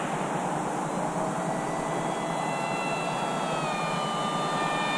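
RMRC Strix Goblin RC plane flying slow turns at quarter throttle, a steady whining electric motor hum with rising tonal whines, heard continuously at moderate loudness with no talk.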